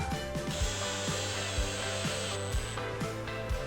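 A power drill set to low torque whirs in repeated short bursts, driving screws into timber, with clicking and ratcheting as screws bite, close and steady with no talking.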